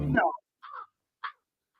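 A crow caws a few times, short harsh calls with brief gaps, fairly close, after a faint voice at the start.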